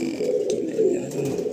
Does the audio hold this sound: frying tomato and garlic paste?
no